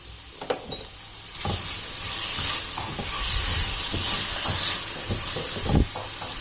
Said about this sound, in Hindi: अब इन वेजिटेबल को बहुत ज़्यादा कुक नहीं करना, सिर्फ सोटे करना है बस।